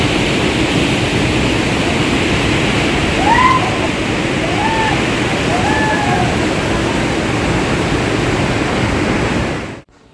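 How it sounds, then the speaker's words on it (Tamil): Hot spring water flowing at Gaurikund makes a loud, continuous broadband rush like a waterfall, with faint chirps overhead, before cutting off abruptly at the end. "அந்த சுடுதண்ணி மட்டும் இந்த இடத்துல அதிசய ஊற்றுன்னு சொல்லுவாங்கள்ல, அந்த இடம் தான் இது."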